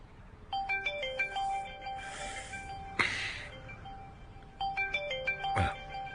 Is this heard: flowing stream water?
no